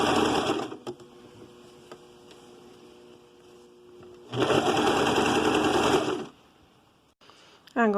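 A sewing machine stitches the cuff onto soft-fabric toddler pants with a rapid whirring hum. It gives a short burst, then a quieter stretch, then a longer loud run near the end, with brief talk in between.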